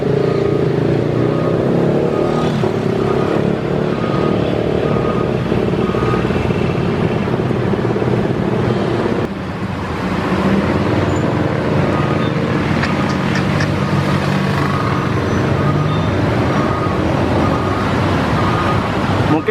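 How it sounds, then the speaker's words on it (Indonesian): Dense, congested traffic on Batu Aji road in Batam, with a steady wash of engines from cars and motorcycles, close and continuous throughout with a brief dip midway. "Inilah kota Batam, bro. Gila macet total."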